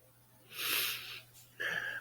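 Congested sniffing and nose blowing from someone with a cold, a breathy blow followed by a sharper wet sniff, close and fairly quiet with a faint steady hum beneath.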